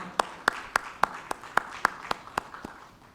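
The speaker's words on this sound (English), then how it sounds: "A big round of applause for Mr. Raja Mohan" A small round of applause from a conference audience welcoming a panel member to a ransomware panel: about ten separate, evenly spaced claps, fairly sparse and moderately near, with no talking over them.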